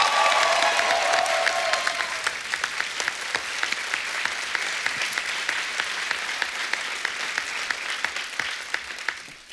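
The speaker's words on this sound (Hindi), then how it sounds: "एक बार जोरदार तालियां टाइगर के लिए हो जाए।" Studio audience on a Hindi comedy talk show bursting into loud applause for a film-star guest, a thick wash of clapping that stays steady and then thins slightly, with sharp individual claps standing out.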